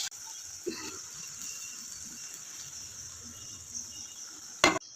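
Dal is added to spices already fried in a pan, giving a steady bright sizzle throughout. A brief gurgling splash comes early, and a sharp metallic clatter lands near the end.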